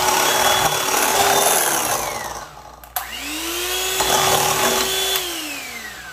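An electric mixer whips cream for a strawberry chantilly cake, a steady loud motor whine that dips briefly, stops with a click, then starts again and slowly changes pitch as the cream thickens.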